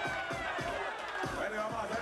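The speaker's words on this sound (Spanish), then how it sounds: "El aplauso para los dos finalistas." A crowd at a home run derby cheers and applauds the two finalists, continuous clapping and whoops mixed with babble and an announcer's voice over the top.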